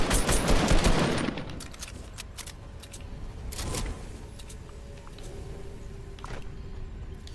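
Rapid bursts of gunfire in a Fortnite match, loud and dense at first and then trailing into scattered shots and clatter, with no talking heard.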